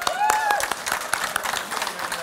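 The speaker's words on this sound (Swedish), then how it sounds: "Så, en applåd då." Audience applause at a cooking competition semifinal, a short burst of scattered claps with a voice briefly heard over it.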